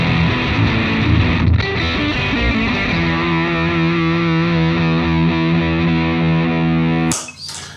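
An electric guitar played through a Schroeder Amplification Blister Agent distortion pedal rings out with thick, saturated chords that sustain loudly, then cut off abruptly near the end with a brief scratchy string noise.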